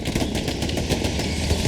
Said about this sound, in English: Shots coming in here.